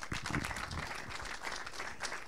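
Applause from an audience at a winter 2022-2023 season press event, a dense, steady patter of clapping that fills the whole moment without pause.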